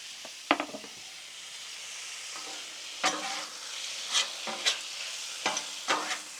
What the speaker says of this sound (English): you gotta love the sound of that sizzle right there